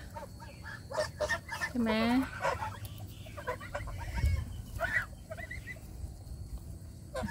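Loud honking and gobbling calls from a flock of White Chinese, Embden and Toulouse geese being fed, several overlapping cries near the recorder, with someone speaking briefly among them.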